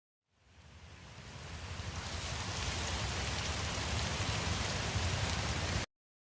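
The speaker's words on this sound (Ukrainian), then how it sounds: "Подув сильний вітер, та незабаром пішов дощ." Steady rain pours down, a dense even hiss that swells in over the first seconds and then holds, with no voices, before stopping abruptly.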